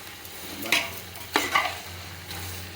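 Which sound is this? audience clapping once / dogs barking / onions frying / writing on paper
onions frying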